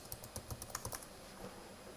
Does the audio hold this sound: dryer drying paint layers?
no